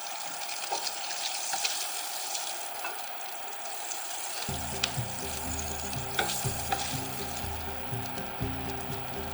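Bacon sizzling steadily in a pot of its own grease for an Irish stew, a continuous close crackle with small pops, and a low humming drone joining partway through.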